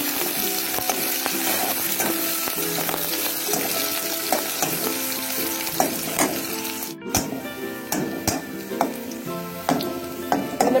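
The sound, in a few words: onions frying in soybean oil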